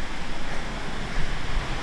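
Waterfall near Petrópolis, a steady, close roar of falling water filling the short stretch with dense, even rushing noise and no voices.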